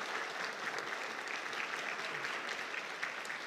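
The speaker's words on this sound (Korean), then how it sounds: "성도님들께서는 사랑과 축복의 박수로 함께 격려해 주시기 바랍니다." A church congregation at a Sunday afternoon service gives warm, steady applause to Sunday school award winners, a dense even patter of many hands clapping together.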